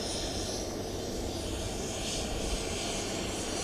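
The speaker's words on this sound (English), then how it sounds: "so does its sounds tells that indeed the plane of the president of Ghana has approached." A presidential jet taxis closer on an airport tarmac behind a guiding vehicle, its engines giving a steady, loud, continuous roar with no gaps and no voices.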